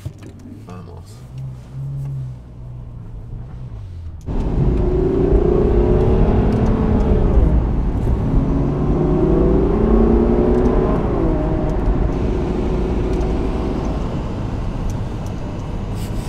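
A Ferrari GTC4 Lusso is started on a cold 2-degree morning on a Scottish road trip. After a quiet moment, the engine bursts to life and settles into a loud, sustained drone, with its pitch rising and falling as the car pulls away and accelerates.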